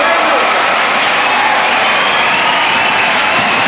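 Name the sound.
basketball crowd cheering and applauding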